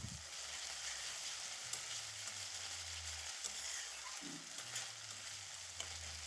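Fish curry spice paste frying over a medium flame, a steady broad sizzle with scraping stirs and low thuds of the spoon running throughout, close and continuous with no talking.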